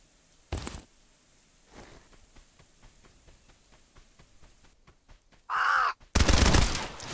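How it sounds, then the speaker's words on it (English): Crows caw in Escape From Duckov, a video game: a short loud call near the start, later a burst of harsh cawing, then a noisy blast, with faint rhythmic ticking between, no voices. "Why is it that the crow sound is so scary to hear?"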